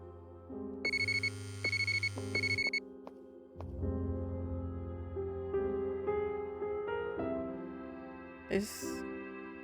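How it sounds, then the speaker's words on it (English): A phone ringtone chimes in the Cognition: An Erica Reed Thriller game, sounding several short repeated electronic rings over a low hum and game music, followed by a softer sustained musical tone. "Did that ring? Oh no, it's my phone that rang"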